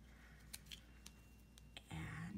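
Scissors trim tinsel wrapped on a ribbon for a Christmas card door hanger, giving a few soft close snips in a quiet room before a louder rustle at the end.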